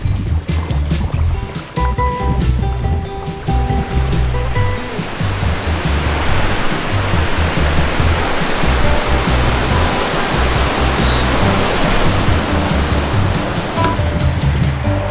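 Rushing river water roars loud and steady at Štrbački Buk waterfall on the Una, a dense broadband wash filling the whole clip with no talk.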